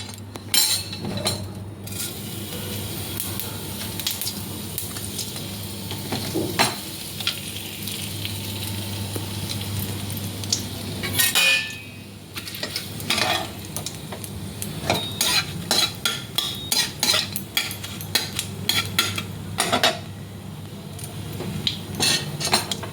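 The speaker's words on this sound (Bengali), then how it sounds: "এবার আমি একটু ফোড়ন দিয়ে দেবো।" Whole spices such as cardamom, cinnamon and dried red chilli fry and sizzle steadily in hot oil in a pan, with frequent clinks and scrapes of a utensil stirring against the metal.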